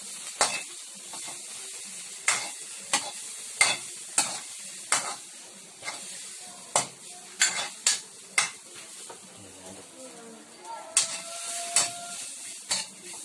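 Chili and dried anchovies (dilis) stirred in a pan for sweet and spicy dilis, a quiet sizzle under a run of repeated sharp spatula scrapes and clinks at an uneven rhythm.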